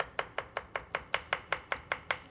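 Steady knife chops through a pepper on a cutting board, about a dozen crisp even strokes in quick rhythm, close and clear with no talking.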